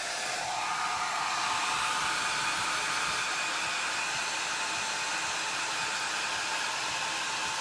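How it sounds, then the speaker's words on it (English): A hair dryer on its lowest setting blows steadily at close range onto inked pillows, a constant airy whir that holds unchanged throughout with no speech. "I'm going to use a hair dryer to dry this before I go on to the next step"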